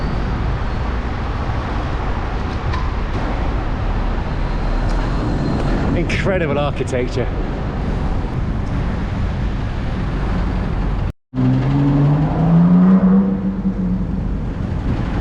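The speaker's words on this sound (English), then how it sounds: "Albeit a bit less traffic would be nice." Busy London road traffic rumbles steadily as vehicles pass and engines hum nearby, with a brief break partway through and a rising engine drone after it, while a person talks over the noise.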